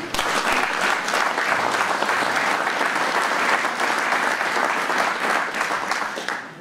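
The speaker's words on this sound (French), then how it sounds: "Et je crois qu'on peut les applaudir et les féliciter." A crowd at an agricultural fair in Saint-André-les-Alpes applauds the municipal workers, many hands clapping in a full, sustained burst that holds steady and tapers slightly at the very end.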